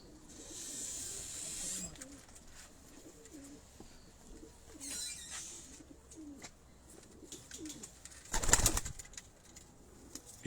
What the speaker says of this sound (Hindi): अब देखें इन कबूतरों को